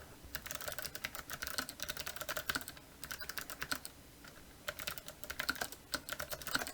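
A plot title is typed on a computer keyboard in MATLAB, with quick bursts of soft, close keystrokes separated by short pauses, quiet and without speech.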